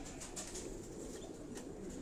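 A rooftop breeding loft of mixed-breed pigeons gives off a low, continuous cooing murmur, with light chirps and faint wing flutters over the brief stretch.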